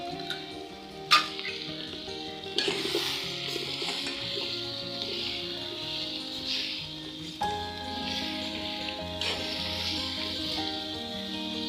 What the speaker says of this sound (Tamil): நல்லா கிளறி போட்டு விடணும் அதுக்கும் சேர்ந்து வதங்கும் பகோடா